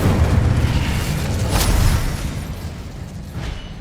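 An Incendio fire spell in the Hogwarts Legacy video game bursts during a boss fight, a loud, deep booming roar with rumbling blasts that rise and fade.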